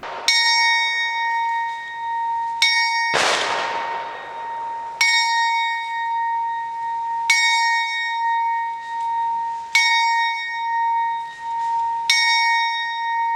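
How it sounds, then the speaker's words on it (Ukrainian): A memorial bell in Ukraine's Prykarpattia region rings at a remembrance ceremony for fallen defenders of Ukraine. About six clear, resonant strikes come at a slow, steady pace, each left to hum and fade before the next, with no talk. "Дзвін пам'яті вкотре пролунав на Прикарпатті, аби вшанувати тих, хто загинув у боротьбі за Україну."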